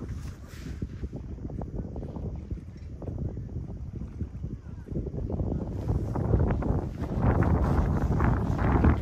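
Strong wind roars across the microphone in a steady, blustery rumble that grows louder in the second half, with faint water sounds beneath.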